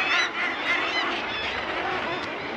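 Seabirds call in a dense, continuous chorus from a cliff colony on an Arctic island, with overlapping honking and squawking cries at close range.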